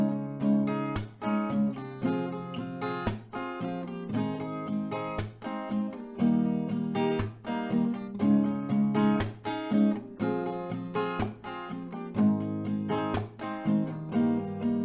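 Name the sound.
acoustic guitar strumming a chord progression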